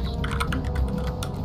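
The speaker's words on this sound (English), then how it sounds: "Mechanical keyboard." Quick, clattering keystrokes on a mechanical computer keyboard, close and steady, with no voices.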